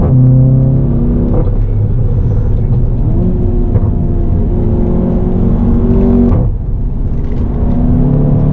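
Audi TT Mk3 engine accelerating hard on the Nordschleife, a loud steady in-cabin roar with rising tones through the gears and a brief dip near the end as the revs drop.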